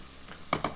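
Two cloves of garlic drop onto carrots frying in a pan, setting off two short, close bursts of sizzling about a tenth of a second apart after a quiet moment.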